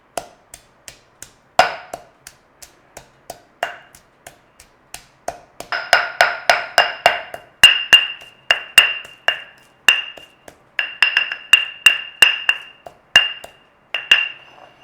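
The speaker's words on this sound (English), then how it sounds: "you pound and twist. So it's nice and steady. And what happens is it squashes and grinds." A pestle pounds and grinds green chilli sauce in a mortar, making a steady series of sharp, close knocks with gritty scraping between strikes, settling into a regular rhythm.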